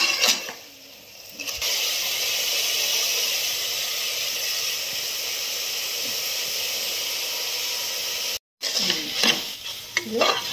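Steady loud sizzling of mutton lung pieces stir-frying in a pan, with scraping stirs, a brief break near the end, then more clattering stirs.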